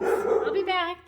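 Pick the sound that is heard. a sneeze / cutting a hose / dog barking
dog barking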